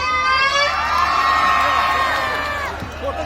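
Audience at the Tulsipur festival concert cheering and whooping loudly, a dense crowd roar with high shouts rising over it, then easing off toward the end.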